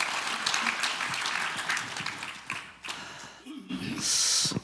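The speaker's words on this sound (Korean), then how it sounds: "다시 한번 큰 박수 부탁드리겠습니다." An audience claps at a Korean seniors' association event, the applause strong at first, then thinning out. Scattered clicks and handling noises follow.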